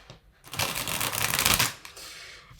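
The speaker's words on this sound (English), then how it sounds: "And while I'm shuffling" A deck of tarot cards is riffled and shuffled in one continuous burst of rapid papery flicking lasting about a second, close by and fairly quiet.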